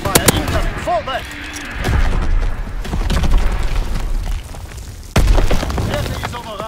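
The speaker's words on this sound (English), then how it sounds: "Enemy mortar fire incoming!" Heavy booming blasts sound in a WWII shooter game, with a sharp loud impact near the end among a stream of rumbling battle noise and scattered shots.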